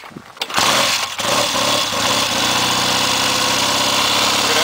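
A 1968 Triumph TR6R motorcycle kick-started from cold with the choke closed catches quickly and settles into a loud, steady, close-up idle with a throbbing rumble.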